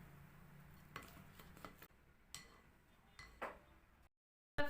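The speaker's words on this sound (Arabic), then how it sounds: "صافي غنحرك الكل جيدا حتى كينسجم ليا هادشي كامل مزيان" A spoon stirs cupcake batter in a bowl, with soft, uneven scraping and sloshing strokes and faint clinks against the side, fairly quiet and up close.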